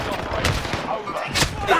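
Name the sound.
cluster strike explosions in a video game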